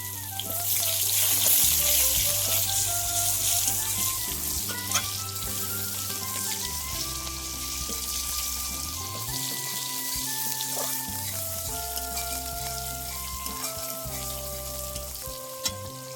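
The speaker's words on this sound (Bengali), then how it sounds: "ওই তেলেই পেঁয়াজটা ফোড়ন দিয়ে দিচ্ছি শুকনো লঙ্কা ফোড়ন দিচ্ছি" Onion and dry red chilies fry in hot oil, giving a loud, steady sizzle that runs throughout with occasional stirring clinks and no talking.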